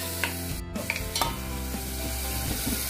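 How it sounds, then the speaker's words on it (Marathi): Spice tempering sizzles in a pan for a Malvani black pea sambara, a steady frying hiss with light stirring scrapes and a brief clatter near the start. "चांगली झाली फोडणी."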